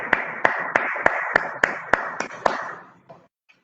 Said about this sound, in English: Clapping for Nafe.